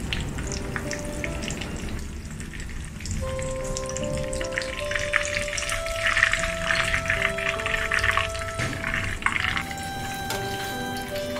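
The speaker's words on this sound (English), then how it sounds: "Deep fry each side about 3 to 4 minutes or until it turns golden." A breaded chicken cutlet for katsudon deep-fries in hot oil, giving a steady bubbling sizzle with some dripping and brief tonal clinks. The sound holds close and even, with no voices.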